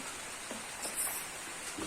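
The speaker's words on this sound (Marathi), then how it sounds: "पाऊस चालू झालाय" Steady patter of rain falling, a soft even hiss with faint scattered drops, no voices.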